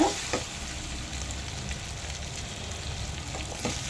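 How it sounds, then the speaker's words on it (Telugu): Fry piece biryani fries in a pan with a steady close sizzle, alongside occasional scraping stirs and a few brief clicks of a utensil. "ఇలా దగ్గరుండి ఇలా వేయించుకుంటే అప్పుడు కింద కొంచెం మారకుండా ఉంటుందన్నమాట"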